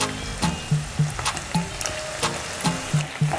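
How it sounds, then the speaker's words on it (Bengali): Chicken fries in a pan for a restaurant-style chicken do pyaza as a spice mixture goes in, giving a steady close sizzle broken by repeated soft scraping and tapping strokes. "আমি যে মশলাগুলো বানিয়ে নিলাম এগুলো এখন এর মধ্যে ঢেলে দেব"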